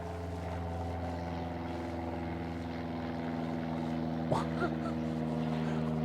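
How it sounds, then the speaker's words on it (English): An airplane passes overhead as a steady, droning engine hum that stays at an even loudness throughout, with a couple of faint brief sounds near the end. "why would a plane fly across right in the middle of my video?"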